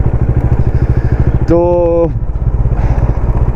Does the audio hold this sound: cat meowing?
no